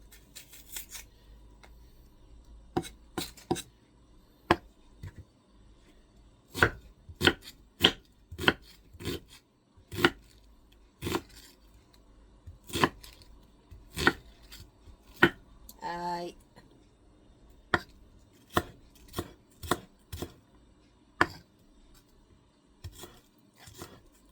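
A knife slices onion on a cutting board in a steady series of sharp, close chopping strikes, pausing briefly now and then, with a faint voice in the background.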